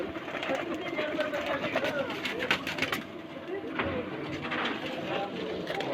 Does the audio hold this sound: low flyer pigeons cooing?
yes